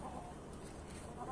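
A young yellow hen clucking softly at a farm, faint and low against steady background noise, with no talk.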